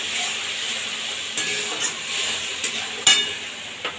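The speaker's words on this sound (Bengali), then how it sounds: "বেশ ভালোভাবে এটাকে কষাবো।" Fish curry masala with turmeric, salt and spice-bowl rinse water sautéed in a pan, a soft continuous sizzle and hiss with a few sharp spatula scrapes and clinks.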